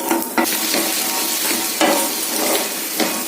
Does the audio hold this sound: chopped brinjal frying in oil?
yes